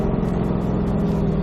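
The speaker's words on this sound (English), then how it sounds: "We're gonna wait for our Roush gonna pass on the left." A Roush Mustang passes on the left on a track, a loud, steady mid-pitched engine roar held close for a brief moment.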